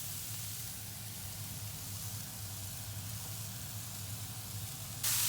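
Courgettes go into a pan where carrots are already frying for vegetarian spring rolls, giving a steady, faint sizzle and hiss with a brief louder burst at the end and no talking.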